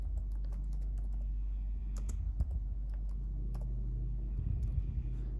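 Steady typing on a computer keyboard, light key clicks in quick irregular bursts over a constant low hum, with a few sharper taps standing out.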